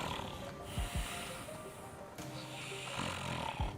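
A person imitates a hibernating bear's snore, giving a few rough, rasping snorts and drawn-out snoring breaths at close range over a faint steady background.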